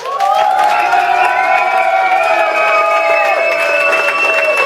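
Loud crowd response at a live performance, cheering and whooping over applause, with a sustained whistle-like tone running through it.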